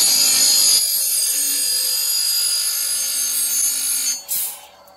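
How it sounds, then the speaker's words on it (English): Oregon or Tecomec automatic chain sharpener running its grinding wheel on a chainsaw tooth, a steady high whine that holds for several seconds, then drops off as the grinder stops, close and loud with no talking. "If I go again, it's going to cut another tooth and I can stop it."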